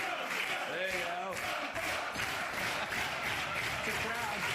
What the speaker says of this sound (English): It's a crowd.